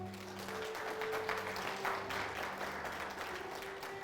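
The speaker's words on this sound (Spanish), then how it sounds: "Vamos a aplaudir a Cristo." A church congregation at a sermon claps together in a sustained burst of applause, moderately loud, with a steady hum beneath and no voices on top.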